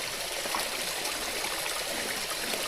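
Steady broadband rush of clean water flowing in a stream near the Murari Devi Temple, a constant close wash with no break and no voices.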